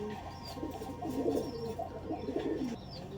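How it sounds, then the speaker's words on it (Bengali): An old male Giribaz homing pigeon coos in low, rolling bursts, close by and moderately quiet over a soft background hum. "এটা হচ্ছে আমার বাসার পুরনো একটা নর কবুতর"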